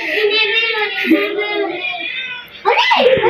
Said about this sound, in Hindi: आ गई बड़ी बिल्ली, आ गई बड़ी बिल्ली